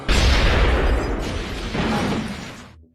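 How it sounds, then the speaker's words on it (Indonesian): A bomb explodes in a film scene: a loud, close, broadband boom that rumbles and roars for nearly three seconds with a second surge midway before fading out. "kemudian bom itu meledak menewaskan Johnson"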